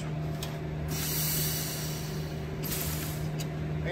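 Valve switching on a US Filter 100 cubic foot expandable filter press, with steady air hiss throughout and brief louder bursts of air as the valve opens and closes.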